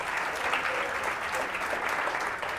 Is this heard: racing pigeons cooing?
no